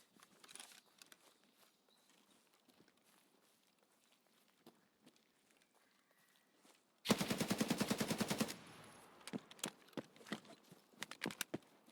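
Automatic gunfire in the game Escape from Tarkov, a sustained loud burst of rapid shots lasting about a second and a half, followed by scattered single shots and short volleys after a quieter stretch of faint ambient sounds.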